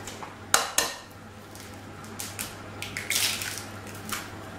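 Minced preparation goes into sausage meat in a salad bowl: two sharp knocks against the bowl, then soft, wet squelching and shuffling close by, with no talking.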